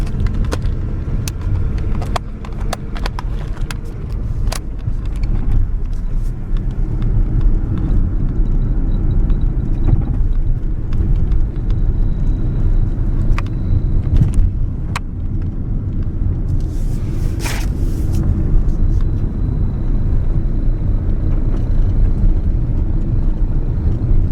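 A car driving down a bumpy residential lane, heard from inside as a steady low rumble of engine and road noise, with scattered knocks and rattles from the uneven surface and no talking.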